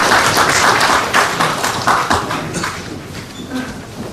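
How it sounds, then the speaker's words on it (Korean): Audience applause welcoming a Gumi mayoral candidate to the podium at a press conference announcing his bid, the clapping dense and loud at first, then thinning and fading over about four seconds. "큰 박수로 환영해 주시기 바랍니다."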